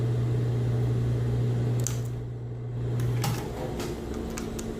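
Sewing machine running a narrow seam on fabric, a steady loud motor hum that drops briefly and resumes, with a few light clicks and knocks, close by and with no talking.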